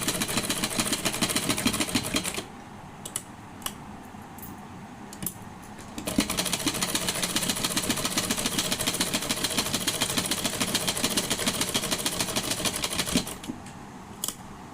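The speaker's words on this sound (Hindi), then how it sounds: "तो इस तरह से मैं 1/2 इंच लेके सिलाई कर देती हूँ।" A sewing machine stitches an old saree into a gown, running in long fast rhythmic bursts with a brief pause in between, close and steady with no talk.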